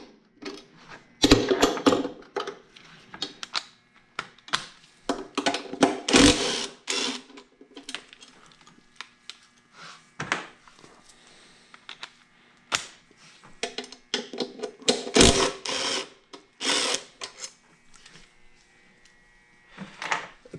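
A ratchet or power driver works on the 8 mm throttle body bolts of a New Edge Mustang intake manifold, loud close bursts of rapid clicking and whirring separated by brief pauses.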